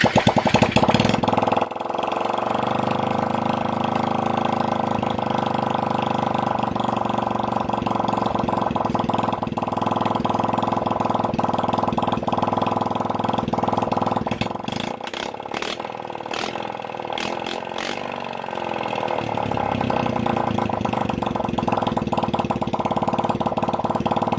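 A Chinese 50cc quad bike engine runs steadily at idle, a constant buzzing drone with a brief rev at the start and some mechanical clatter midway, close and loud.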